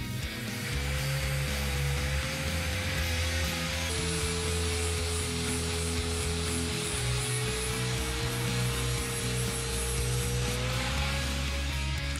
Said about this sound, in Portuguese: Com o disco flap eu já vou dar um acabamento nessa peça.